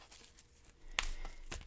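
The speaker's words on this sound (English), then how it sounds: "I'm going to shuffle and deal you an Angel Oracle card" Angel Oracle cards being shuffled, a quiet series of papery riffles and flicks with one sharper snap near the middle, faint and close with no speech.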